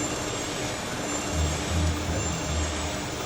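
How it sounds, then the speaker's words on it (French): Isolated cockpit recording of the Air Florida Flight 90 jet engines: a steady low rumble and hiss with a pulsing low drone, continuous and without voices. "Le technicien élimine tous les bruits dans le cockpit jusqu'à ce qu'il ne reste plus que le son des moteurs"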